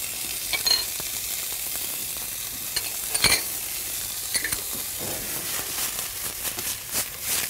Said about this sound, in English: I use some chili oil to give a little bit of a kick. So you put your apple in, bit of a smoke.